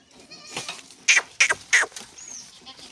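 Osmanabadi and Boer cross goats bleat nearby: three loud, short calls in quick succession, preceded by a softer, fainter bleat.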